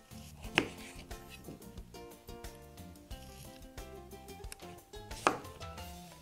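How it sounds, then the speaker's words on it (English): Butternut squash halves are sliced with a knife into one-inch pieces, giving a few sharp cuts that strike the board over steady background music. "Next, I'm going to cut each half in 1-inch slices."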